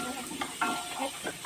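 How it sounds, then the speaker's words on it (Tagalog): Ginataang langka, jackfruit in coconut milk, is stirred in a pan over low heat, giving a soft, steady sizzle with a few gentle scraping strokes, close and fairly quiet. "Let's mix properly."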